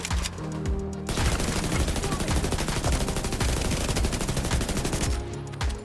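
Sustained automatic assault rifle fire chatters in a video game, a short opening burst then a long unbroken stream of rapid shots at close range, loud and dense for several seconds before tapering off.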